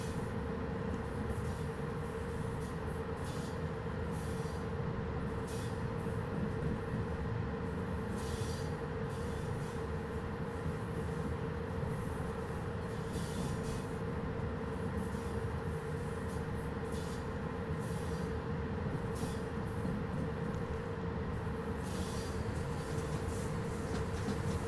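A passenger train runs steadily on a suburban line near Chiajna and Chitila, Romania, its continuous rumble and wheel noise holding level throughout with occasional squeals and clicks and no voices.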